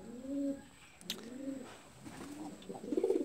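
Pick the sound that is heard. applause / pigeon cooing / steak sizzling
pigeon cooing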